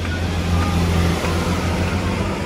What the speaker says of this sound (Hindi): ट्रक की भाई तेरी गजब साउंड थी।